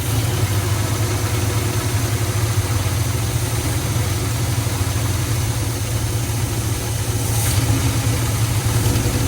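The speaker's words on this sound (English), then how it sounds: "Cut that truck off behind me." A 1970 Chevrolet C10 pickup with a small-block V8 idles steadily and close by, a continuous low rumble that holds even for the whole stretch with no voices over it.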